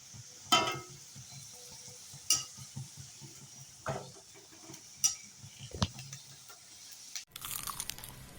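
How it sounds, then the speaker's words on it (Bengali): Samosas frying in a small amount of hot oil, with a soft steady sizzle broken by sharp crackles and scraping stirs at irregular moments, close up with no talking. "দেখুন অল্প তেলে কিভাবে সিঙ্গারা ভাজা হচ্ছে।"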